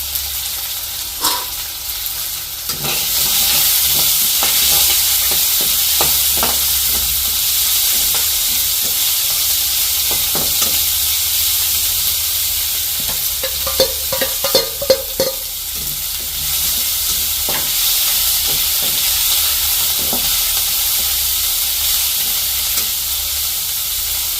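Mustard seeds, cumin and small shallots sizzle steadily in hot oil in a frying pan, with a continuous frying hiss and scattered sharp crackles and pops throughout, close and fairly loud with no talk.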